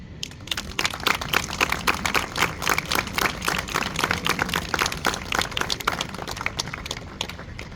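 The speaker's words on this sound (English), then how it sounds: "I want to give a round of applause to the BOE, the mayor and council for this unity" Steady applause from a crowd gathered at the opening ceremony of a sports complex in Bogota, New Jersey, with dense, continuous clapping lasting several seconds and no talk over it.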